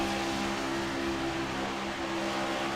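Race cars at Daytona lift off the throttle in a pack, giving a steady, fluttering engine roar from the field without a clear break and with no talk over it.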